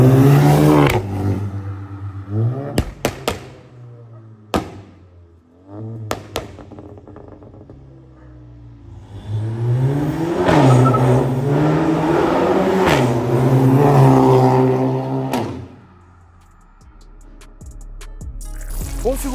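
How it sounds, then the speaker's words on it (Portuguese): A 300 hp Volkswagen Jetta GLI with a large aftermarket exhaust, revved in short sharp bursts, then held in a long rising and falling roar before dropping back to idle. "Já vou dar outra acelerada e mostrar para vocês o ronco andando no carro"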